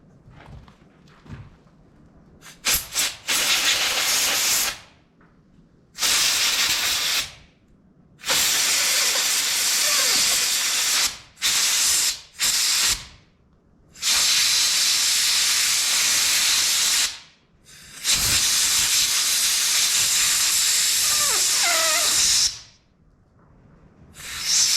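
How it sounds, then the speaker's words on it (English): Compressed air blasts grease and debris out of a Kuhn GMD800 disc mower in long loud hissing bursts, about half a dozen, separated by short quiet pauses. "So now I'm going to try to shoot the grease and all the crap out of it with air"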